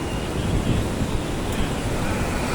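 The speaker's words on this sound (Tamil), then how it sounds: "தண்ணி ஓடுது பாருங்கள்." Fast-flowing water rushes steadily in a continuous broadband roar, close and even in level, with buffeting wind noise mixed in and no distinct breaks.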